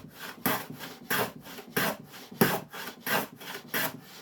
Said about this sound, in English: And then shoot the end of your board.